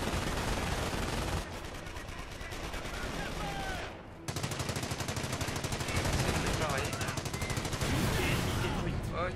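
Rapid automatic gunfire from machine guns in the Company of Heroes strategy game, loud sustained bursts and volleys with a brief lull near the middle, dense and continuous throughout.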